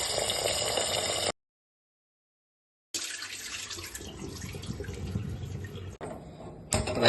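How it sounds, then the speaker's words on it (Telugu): Basmati rice is rinsed in water for chicken biryani: running tap water and sloshing, broken by a silent gap, then resuming with splashy handling near the end. "బాస్మతి రైస్ 2 సార్లు కడిగి ఒక గంట సేపు నానబెట్టుకోవాలి."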